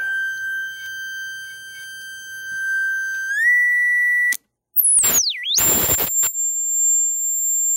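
A JBL L100 Century first-generation tweeter plays loud test tones: a steady tone that steps upward, then gliding sweeps and short bursts of hiss, all close and alone.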